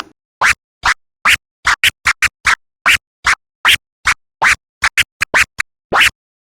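A fast run of clipped scratch chirps, some quick pairs and triplets, each ending abruptly in silence, repeated steadily for several seconds.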